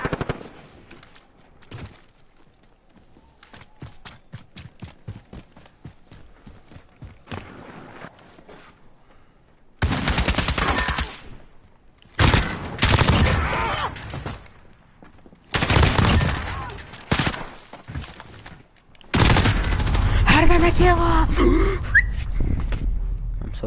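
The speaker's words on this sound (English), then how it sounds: "Two shots with a 725 doesn't kill someone." Bursts of 725 shotgun fire in the Modern Warfare video game, loud blasts and volleys in several separate clusters, with quieter clicks and footsteps between them.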